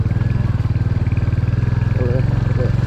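A Royal Enfield Hunter 350 motorcycle climbing a steep, risky off-road track, its engine pulsing in a loud, steady low thump close by, with faint scraping and rattling over it.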